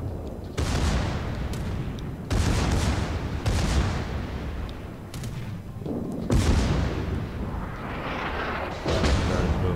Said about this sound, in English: Secondary is on either side is firing.